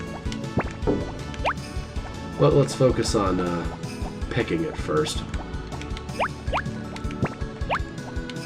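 Crops being watered in the farming video game Harvest Moon, with repeated dripping, splashing liquid effects in short bursts under steady talk from a player.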